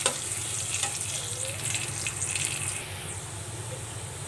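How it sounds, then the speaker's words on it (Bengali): Chopped garlic frying in oil ahead of a water lily stem dish, a close, steady sizzle with light stirring scrapes that eases slightly toward the end. "কেটে রাখা রসুন দিয়ে এটাকে লাল লাল করে ভেজে নেব।"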